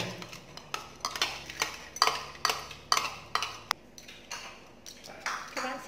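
Carp bone broth being strained through a sieve into a pot, with repeated clinks and scrapes of a utensil against metal and a steady pattern of close, distinct taps and knocks.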